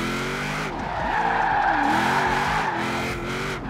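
A car power slides in the Forza Horizon 4 racing game, its tires squealing in a loud, continuous skid with wavering pitch over a steady engine drone, and no voices.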